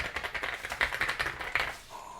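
Rapid typing on an MCHOSE UT98 mechanical keyboard, a quick run of crisp, close key clacks with a few louder strikes, ending in a brief pause.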